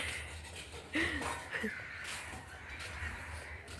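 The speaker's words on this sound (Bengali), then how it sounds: "দেখো পাখিগুলো কিরকম ঝাঁকে ঝাঁকে" Crows caw at sunset, with two clear, fairly close calls about half a second apart over a soft outdoor background, then only quiet air.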